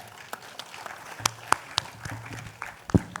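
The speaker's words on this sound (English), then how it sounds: "Give a round of applause for Ravi Rajput, sir." Scattered, fairly faint clapping from an audience at a BSides Mumbai security conference greets speaker Ravi Rajput, with a few sharper individual claps standing out over a thin, uneven background.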